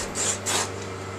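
A straight line is marked on canvas fabric, heard as two close, soft scratchy rubbing strokes over a quiet steady hum.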